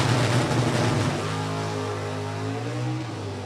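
A drag racing car at New England Dragway roars down the strip in an NHRA event, a loud, steady engine drone heard from a distance that gradually eases in volume.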